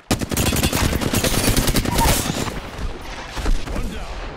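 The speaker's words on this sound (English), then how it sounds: "Taking fire, brothers." Rapid automatic gunfire in the Apex Legends shooter, a dense close burst of shots lasting a couple of seconds before tapering into scattered fainter rounds and echoes.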